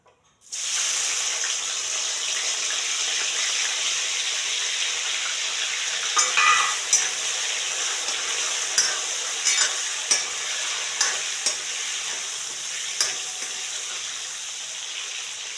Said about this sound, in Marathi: तेल चांगलं गरम झालं आपलं मी आता तळून घेते